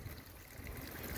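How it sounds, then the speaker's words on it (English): Running water from a hose on garden beds makes a soft, continuous trickle and splash, faint and steady with a little wind noise on a blustery day. "So we've now got the water on."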